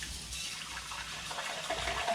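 Tap water splashes steadily as a Yeti tumbler is rinsed, a close, continuous gushing sound with no talk.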